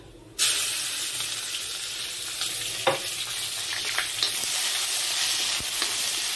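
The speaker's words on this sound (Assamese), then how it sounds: "আগতে শুকান মাছখিনি দি দিলোঁ, এতিয়া ভাজি লৈছোঁ অকণমান।" Steady loud sizzling of dried fish frying in a hot pan, starting abruptly and continuing throughout with a few faint clinks.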